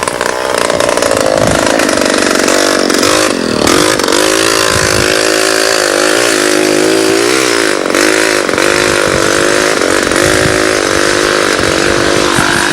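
Several motocross motorcycles race in a 1985 event, their two-stroke engines screaming loud and close with constant revving and shifting pitch, no speech.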